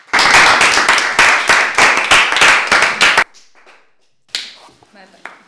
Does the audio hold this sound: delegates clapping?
yes